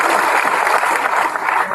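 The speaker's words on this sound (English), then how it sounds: "I think equity, we owe them a round of applause" An audience at an Equity Bank diaspora dinner breaks into a steady round of applause, many hands clapping together in a dense, even wash.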